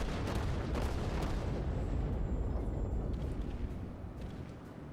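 A Wyoming-class battleship in a naval video game firing a main gun volley, a dense, rumbling wall of overlapping booms with sharp cracks on top, staying heavy and loud throughout before easing slightly at the end, with no voices.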